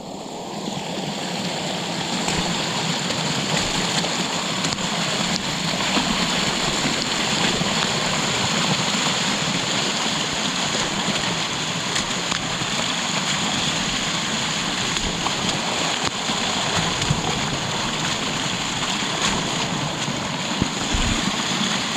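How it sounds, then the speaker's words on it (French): Small, muddy, ephemeral waterfall on Réunion island, a steady close rushing and splashing of water that continues without a break. "une petite cascade d'eau. Boueuse, hein, mais cascade quand même."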